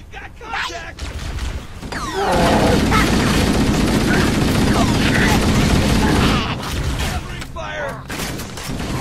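A grenade blast and surrounding combat in Halo: CE Anniversary, loud and sustained over several seconds amid gunfire and game effects, with a player's voice talking at the start and end.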